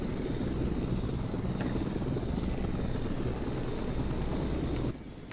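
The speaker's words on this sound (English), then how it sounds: "This helicopter." A simulated helicopter in the FSX flight simulator game drones with a steady, loud rotor and engine roar, dropping slightly in level near the end, with no talk.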